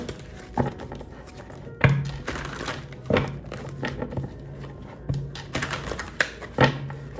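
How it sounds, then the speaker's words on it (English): Tarot cards being shuffled up close: papery riffles and soft slaps in irregular bursts, with crisp snaps standing out every second or two. "let me continue to shuffle"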